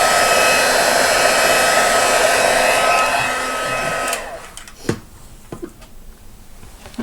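A handheld heat tool used for embossing blows with a loud, steady whooshing hiss for about four seconds, then cuts off, leaving a quiet room with a few small clicks and taps.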